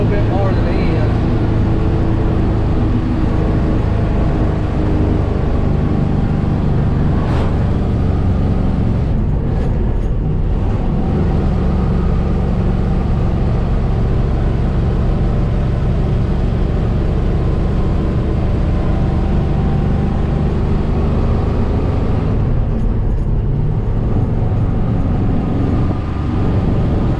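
An old Ford F800 grain truck hauling soybeans drives steadily, its loud low engine rumble and road drone filling the cab for the whole stretch, with brief shifts in tone along the way.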